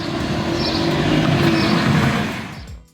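A 2024 Citroën C5 Aircross mild hybrid rolls over a speed bump, a loud low rumble of road and engine heard from inside that fades out near the end.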